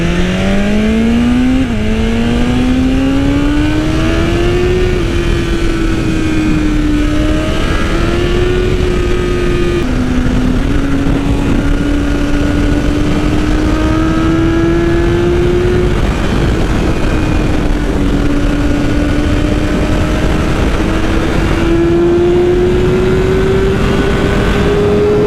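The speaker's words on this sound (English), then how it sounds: "Those downshifts are just so freaking clean." A 2020 BMW S1000RR M motorcycle with new mods, engine loud and constant as it revs up and holds, with quick clean drops in pitch from clutchless downshifts before climbing again.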